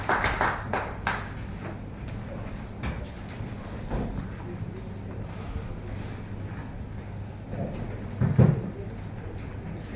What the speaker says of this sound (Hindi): जोरदार तालियों से आपका स्वागत करिए